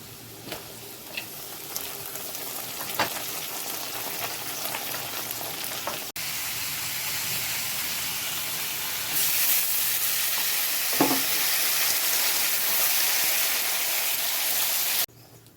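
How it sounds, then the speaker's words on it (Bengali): Bombay duck fish frying in a pan with potato, onion and garlic, a continuous close sizzle with occasional stirring knocks, growing louder and hissier partway through, then stopping abruptly. "আমরা আলু ভেজে পেঁয়াজ ভেজে রসুন টসুন দিয়ে একসঙ্গে ভাজবো"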